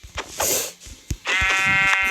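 Sheep bleat in the Minecraft video game, two loud close bleats, the second longer and more nasal, set against light clicks and game sounds with no talking.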